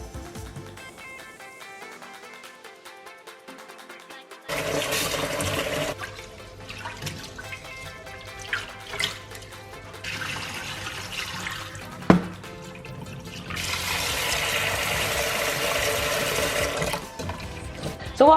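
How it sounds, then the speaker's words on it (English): Lentils being washed and scrubbed in water in a home kitchen, with steady running water and sloshing that swells louder in two stretches, plus scattered knocks and rubbing sounds, no talking. "I've just chucked both of the lentils in here and we're just going to scrub it and just wash it properly."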